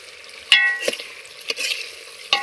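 Chicken curry with garam masala is stirred in a pan, several distinct scraping strokes and clinks of the spoon over a light sizzle, close up and with no voices.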